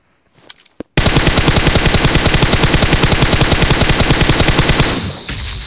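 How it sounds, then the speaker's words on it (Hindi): A sustained automatic burst of gunfire from a BGMI / PUBG battle-royale match, loud and close, with rapid evenly spaced shots for about four seconds after a couple of brief sharp clicks. "अब जैसे ही बंदा दिखता तो मैं लेट करके फायर देने की कोशिश करता हूँ"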